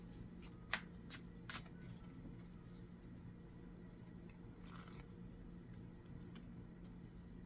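Tarot cards shuffled nearby, soft quick flicks with a few sharper snaps near the start and a rustling burst later, faint over a low steady background hum and with no talking.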